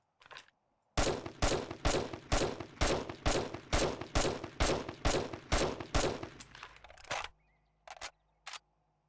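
Sniper rifle in 7 Days to Die firing a steady string of about a dozen loud, sharp shots at even intervals, followed after a pause by two isolated shots.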